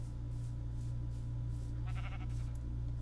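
Short, thin bleat of a Minecraft sheep in Crundee Craft, rising briefly near the two-second mark over a constant low droning background.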